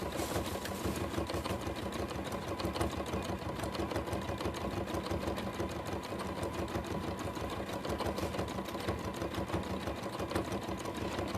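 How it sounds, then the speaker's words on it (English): A sewing machine runs a zigzag stitch over the edge of fabric, joining two pieces for a horse collage. Its rapid, steady needle chatter stays close and unbroken throughout. "I'm just stitching over the edge of that fabric just to join the two with a little bit of ziggy-zag sort of stitch"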